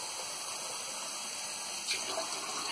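Water pours into a multicooker over buckwheat for porridge, a soft, continuous trickle and splash heard faintly from close by, alone without talk.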